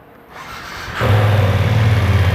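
A 2021 BMW F900R motorcycle on its original stock exhaust, close by: a low idle that swells into a steady, louder engine drone after about a second, with a firm low rumble and no talking.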